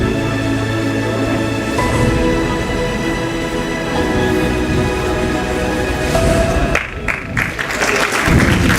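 Applause for award recipients at an actuarial summit ceremony, continuous clapping heard under sustained background music and tones, loud and even throughout.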